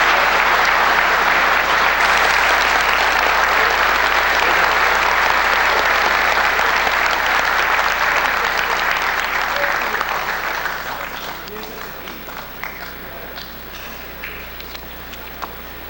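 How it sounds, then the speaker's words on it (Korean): At a public hearing in Korea, the audience claps warmly for a donation handover. Dense applause holds strong for about ten seconds, then thins to scattered claps, with faint voices and a low hum underneath. "다 같이 박수로서 성금 전달 받아주시기 바랍니다"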